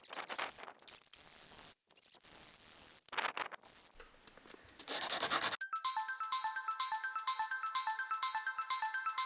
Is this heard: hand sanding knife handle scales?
yes